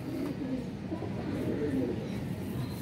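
Pigeons at a loft, several birds cooing in low, rolling murmurs that overlap steadily throughout, fairly close, with no clear pauses.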